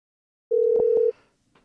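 A single short electronic telephone tone sounds from a played phone call, clean and steady for about half a second, then silence.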